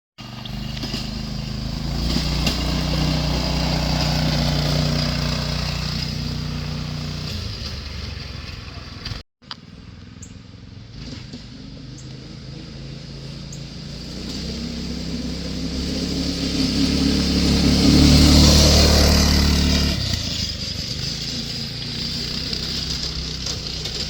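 A cheap homebuilt go-kart engine with a loosely supported mount runs steadily nearby with a rough, buzzing drone, cuts out for an instant, then revs up to a louder peak before settling back to idle.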